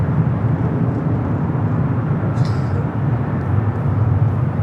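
Steady broadband jet engine roar from a Delta airliner pushing back at LAX, continuous and fairly loud with a constant low rumble throughout, no voices.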